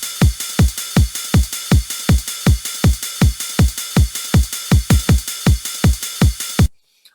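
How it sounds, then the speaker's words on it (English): A TR-707 drum machine pattern with punchy kicks landing at a steady, even pulse, layered with bright hissing open and closed hi-hats, loud and alone before stopping abruptly. "And also a closed hi-hat to support the open hi-hat."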